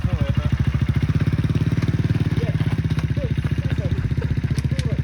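An old childhood motorcycle with a faulty engine that pulls hard runs close by with a loud, rapid, even thumping. A voice can be heard speaking over the engine.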